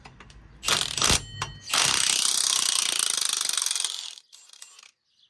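A spanner turns an 18 mm bolt on the shock absorber strut assembly of an Opel Vauxhall Astra Mk4, giving a loud, close burst of harsh mechanical rattling that lasts about two seconds and then stops.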